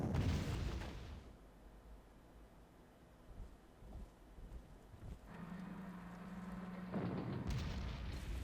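Artillery fire in the wartime strategy game Panzer Corps, with a loud booming blast at the start that decays into a low rumbling wash, then quieter distant thumps and a steady tonal hum, no talking.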